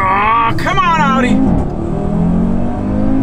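Audi RS3 and a tuned Audi S3 accelerate hard side by side in a drag race, engines rising in pitch through gear changes, loud and close, with a voice talking over the run.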